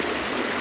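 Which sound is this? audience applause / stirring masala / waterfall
waterfall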